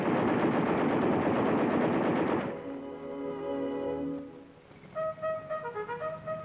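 An M60 Patton battle tank fires its machine guns in a loud, dense sustained burst that stops abruptly, followed by quieter ringing tones and then a series of short sharp bursts, with no talking.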